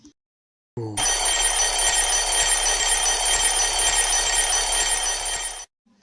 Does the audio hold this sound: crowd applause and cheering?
no